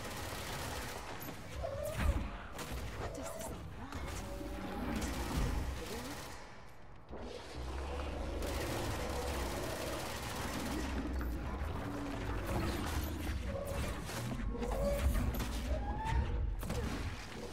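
Gunfire in the video game Control, with bursts of shots and impacts across a dense, busy game soundscape, continuous and loud.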